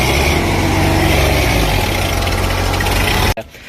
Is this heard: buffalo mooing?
no